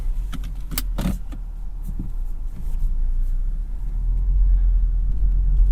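A 2021 Volkswagen Jetta idles with a steady low engine rumble that swells slightly toward the end, with a few brief jingling clicks like keys near the start and no talking.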